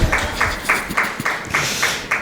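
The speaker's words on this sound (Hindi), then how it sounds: "तो प्रशंसा के लिए उनकी ताली तो बजा दो" An audience at a Jain religious discourse on the Bhaktamar hymn claps together in a steady rhythm. The sharp, even claps repeat about twice a second at moderate volume, with no speech over them.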